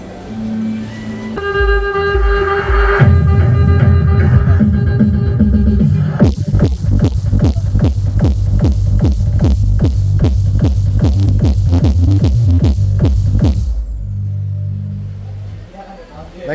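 A loudspeaker box from a sound-system wholesale market plays music with heavy, throbbing bass, loud and close; a fast repeated bass pulse drives the middle stretch before easing to a softer tone at the end.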